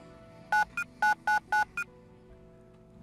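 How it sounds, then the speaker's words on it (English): Six short touch-tone beeps sound in quick succession as a cell phone number is dialed in a video game, crisp and close, followed by quiet background tones. "Taking out my cell phone, I dialed the principal's private number from memory"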